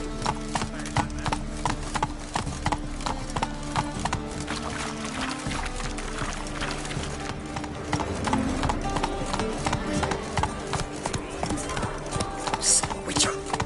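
Hoofbeats of Roach, Geralt's horse in The Witcher 3, a steady rapid clip-clop of hooves on the ground, close and continuous throughout, with voices talking over the gallop.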